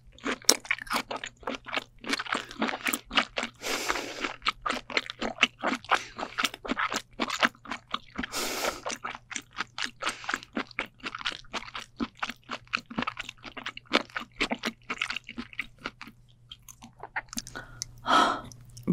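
Raw yellowtail sashimi chewed up close at a seafood meal, with a steady run of moist, crunchy bites and chews repeating in quick rhythm against quiet background hum.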